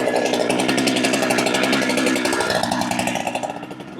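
A Holzfforma chainsaw, a Husky 395 clone, idles loud and close with a rapid rattling two-stroke pulse, dipping and wavering toward the end before a final burst.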